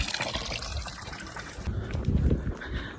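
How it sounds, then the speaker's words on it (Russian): Cold mountain spring water running over hands outdoors in a Pyrenees valley, a steady splashing gush and trickle, moderately close and continuous. "Ой, руки помыла. Холодная вода, горная."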